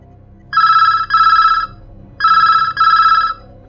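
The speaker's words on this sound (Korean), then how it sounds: "아침이 되도록 딸이 돌아오지 않자 어머니는 친구에게 전화를 걸었습니다." A telephone rings on the line while a mother calls her daughter's friend early in the morning: two double-burst rings, each a pair of bright electronic trills separated by a short pause, loud and clear with no talking.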